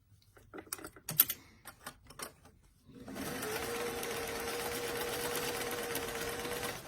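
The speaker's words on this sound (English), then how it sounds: "The next step is just going to be to sew the bottom portion of the bag together at the center bottom seam." Clicks and taps come first. A home sewing machine then runs steadily and evenly while stitching the center bottom seam of a small doll-size beach bag.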